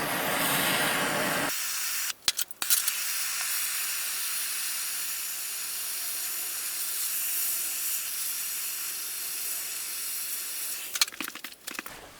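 A propane torch hisses steadily and loudly while heating a metal part of a Woods Powr vacuum suction cup, with a few clanks and knocks near the start and near the end.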